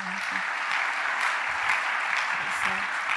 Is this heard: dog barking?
no